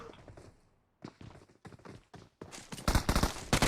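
Gunfire in the battle-royale game PUBG Mobile: sharp, punchy shots in short irregular bursts, sparse at first and then crowding into loud, rapid volleys toward the end.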